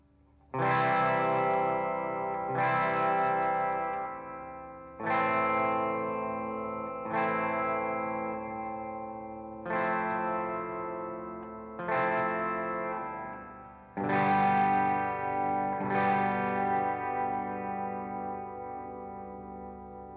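Custom Ibanez electric guitar on the bridge pickup, eight loud chords struck one after another with distortion, chorus and echo, each ringing out and decaying before the next.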